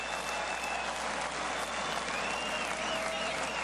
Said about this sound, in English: And this crowd loves it.